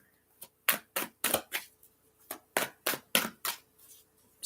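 Universal Tarot cards being shuffled by hand during a live reading, a run of about ten crisp, riffling bursts in an uneven rhythm, close and fairly loud, with no talking over them.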